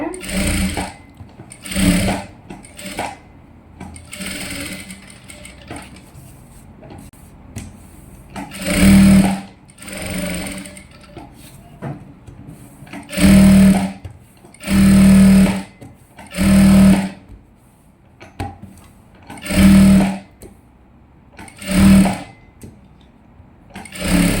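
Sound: sewing machine stitching a silk skirt

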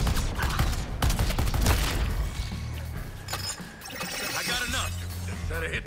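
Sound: cannon beam firing in the video game Suicide Squad: Kill the Justice League

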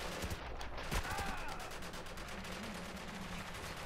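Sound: gunfire in the video game Spec Ops: The Line

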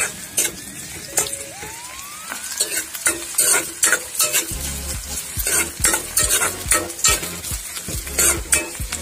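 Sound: chopped onions frying in a pan

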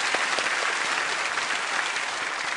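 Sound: congregation applause for volunteers

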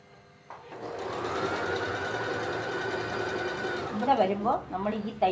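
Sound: sewing machine stitching the sides of a nightie

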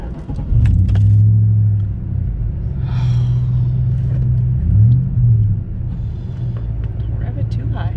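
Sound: pickup truck engine with aftermarket exhaust

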